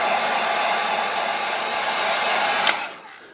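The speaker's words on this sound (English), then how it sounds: "get a heat gun and let me dry this off good before we think about taking the wrap off" Heat gun blowing a steady, loud broadband hiss as it dries paint on a carved pumpkin seed, continuous for about three seconds with a brief clatter near the end before it cuts off.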